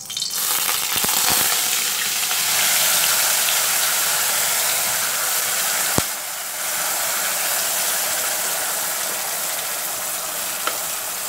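Ground tomato chutney is sautéed in oil, hissing and sputtering loudly and evenly for the whole stretch, broken by one sharp clink of a utensil midway.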